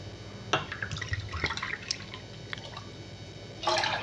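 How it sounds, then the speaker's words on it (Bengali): Two cups of water poured into a pot to start sugar syrup for homemade Bengali red sweets, giving a light splashing, dripping trickle that runs on and off, then swells briefly near the end, with no talk. "2 কাপ জল দিচ্ছি।"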